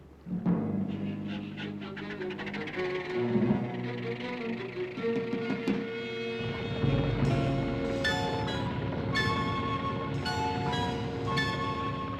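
Boat engines on a 1960s television drama start with a rumbling surge and then settle into a loud, steady droning roar that keeps going, mixed with splashing water and swelling orchestral music.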